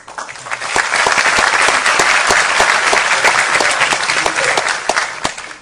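Dense, sustained audience applause at a talk on Mali and neocolonialism, loud and even for the full length, with no speech over it.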